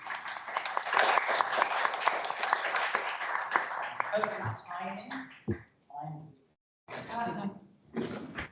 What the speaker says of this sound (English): can we give a round of applause for the two speakers?